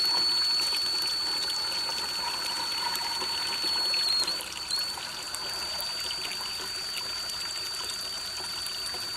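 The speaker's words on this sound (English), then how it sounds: "Just keep adding water, because right now all we're doing is cutting the sludge." Water poured steadily into a sludge slurry, a continuous trickling, gushing stream with a faint high whine running through it and no voices.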